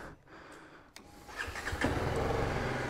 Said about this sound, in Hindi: देख लो गाइस कोल्ड स्टार्ट में इसका क्या हैवी रोर आता है